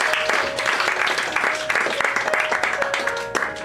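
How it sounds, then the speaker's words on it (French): Audience applause at an evening show in a hall, dense steady clapping filling the room at moderate loudness, with a faint sustained tone and some murmur underneath. "On l'applaudit, mesdames et messieurs."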